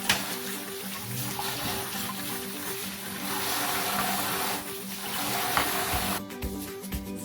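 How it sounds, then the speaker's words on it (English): Carrots and peppers being washed with salt under running water in a kitchen sink: a steady, close rush of flowing water with splashing and handling noises throughout. "washing up the carrots and the peppers with some salt to get all the germs out"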